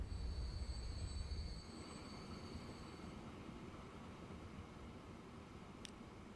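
A train in a railway video game rolls along with a steady rumble and high wheel squeal, a heavy low drone fading after the first seconds, with no talking.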